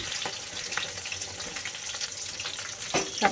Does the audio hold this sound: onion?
yes